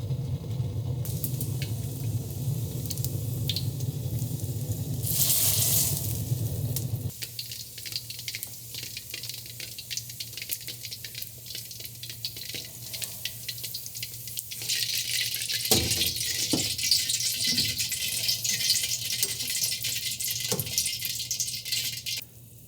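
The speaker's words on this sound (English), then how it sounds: "So we're going to take out chicken feet and just toss it into our boiling water as we go." Chicken feet dropped one after another into a pot of boiling water while making dim sum chicken feet in black bean sauce: a steady bubbling, hissing boil with intermittent splashes and clinks, fairly close, with no talking.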